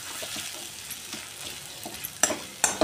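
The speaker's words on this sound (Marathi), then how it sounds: "तेलामध्ये आपला टोमॅटो छान असं परतवून झालेला आहे" Tomato sautéing in oil for pav bhaji, a soft low sizzle under occasional stirring, with a couple of sharper spoon scrapes or clatters near the end.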